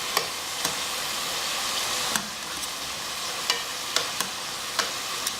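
Chicken pieces frying in a pan give a steady, loud hiss of sizzling oil, broken by several sharp clicks as the pieces are stirred and turned over; no one talks.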